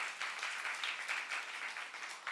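A church youth-service congregation claps in a steady, fairly quiet wash of applause heard at some distance, continuous for a couple of seconds with no voices over it.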